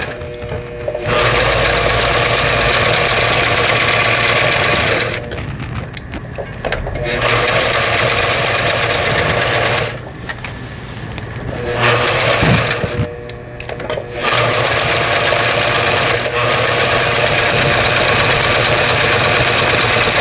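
A Brother GA15 domestic sewing machine, under repair and being tested, runs at steady speed through straight, overlock and forward-reverse stitching, its loud continuous motor whir broken by three short pauses.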